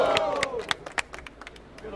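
Scattered claps and shouts from a rap battle audience, moderately loud with irregular sharp hits and a cheer at the start, over background crowd babble.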